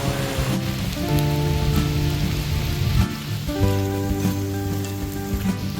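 Rain falling on an off-grid homestead, a dense steady patter on surfaces close by, with a tonal hum running underneath.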